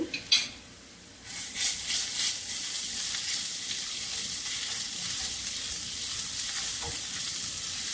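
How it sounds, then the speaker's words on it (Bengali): Garlic paste hisses in hot oil while a spoon stirs it for tuna kabsa. A few clinks come first, then a dense, loud sizzle that holds steady, with scraping strokes underneath and no voices. "সামান্য নেড়ে ছেড়ে ভেজে নেব।"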